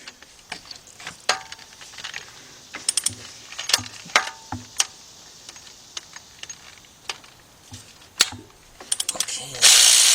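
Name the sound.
ratchet removing 10mm timing chain tensioner bolts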